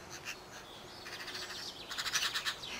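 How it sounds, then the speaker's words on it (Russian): Birds sing faintly in the distance outdoors in a summer garden, with light chirping that grows busier and brighter toward the end over a steady background hiss. "Я отвлекаюсь, потому что они так поют звонко."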